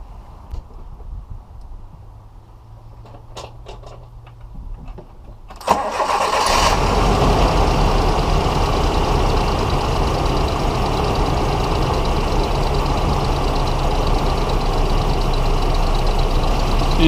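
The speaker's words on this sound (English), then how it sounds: "And we start the truck" A truck engine starting during an alternator test, a quiet stretch with faint clicks, then a sudden crank that catches and settles into a loud, steady idle rumble that continues to the end.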